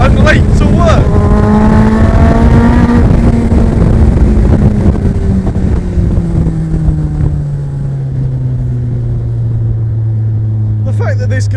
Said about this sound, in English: Driving to work in a Suzuki Hayabusa powered sports car, race car, whatever you want to call it.